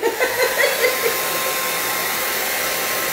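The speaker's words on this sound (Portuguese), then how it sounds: "É verdade, uso secador, sabe?" A handheld hair dryer blows steadily up close while drying varnish on a decorated MDF box, a loud continuous airy whir with a faint tonal whine and a few pulsing wobbles at the start, no talking.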